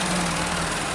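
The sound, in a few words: tractor and excavator engines running at a building plot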